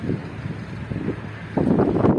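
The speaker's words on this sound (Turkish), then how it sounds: "Acaba rüzgarda mikrofon nasıl olacak onu test ediyorum." Outdoor wind buffets a microphone during a stormy bicycle tour, producing low, uneven rumbling gusts that swell louder toward the end, close and blustery.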